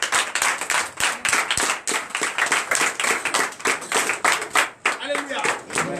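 Church congregation clapping rhythmically during worship, steady dense claps that fill the room throughout, with voices singing or calling out underneath.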